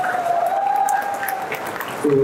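Audience applause at a Tamil stage event, a steady mass of clapping with a sustained tone running through it, then a brief shift at the end.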